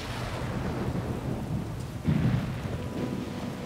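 Rain and rolling thunder from the video game Ori and the Will of the Wisps, a steady wash of rainfall with a deep rumble swelling louder near the middle, no voices.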